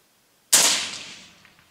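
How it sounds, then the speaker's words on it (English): A single sharp rifle shot from an ARGH Tom Austin SPC short-barreled rifle cracks loud and close out of silence, then decays into a fading echo. "So we're going to shoot 3 shots, see how it is, and we'll check it out"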